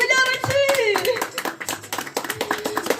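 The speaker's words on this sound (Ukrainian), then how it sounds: "І ще раз оплески наші дорогі ювіляриці!" Family and guests clap their hands for a woman at her jubilee birthday greeting, a lively burst of hand claps with a child's and adults' voices talking over it.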